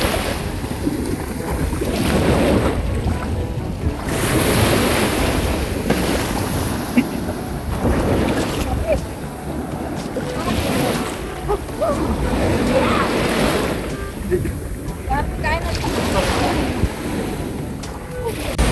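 Ocean waves at Gyeongpo Beach in Gangwon-do roll and wash in repeated surges, loud and close with wind buffeting the microphone, while voices are faintly present in the background.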